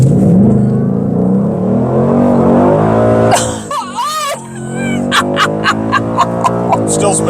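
A 2023 Ford Mustang GT Premium with a performance exhaust idles with a deep rumble, then revs hard in sharp roaring bursts, and short blips follow. The sound is close and loud, with a person's voice heard briefly over it.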